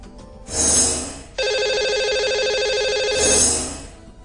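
A phone line rings on an outgoing call to a radio show caller: a loud, steady electronic ringtone between two swelling whooshes of transition sound, with no voices.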